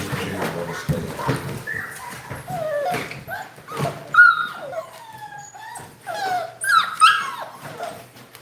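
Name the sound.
American Bully puppies whimpering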